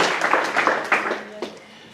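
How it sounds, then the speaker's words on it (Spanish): A church congregation applauds in a brief burst of clapping that fades out within a couple of seconds, with a voice speaking over it. "Denle un aplauso al Señor por ello."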